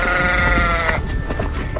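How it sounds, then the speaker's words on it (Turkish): A sheep gives a loud, wavering bleat lasting about a second, followed by a noisy, rumbling background. "Me me diye koyun sesi."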